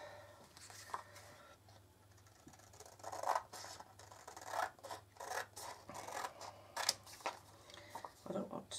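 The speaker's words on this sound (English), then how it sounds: "I'm going to trim this down a bit actually." Scissors trimming lace for a wall hanging, a string of faint snips and papery scratching with rustling handling sounds, quiet and close.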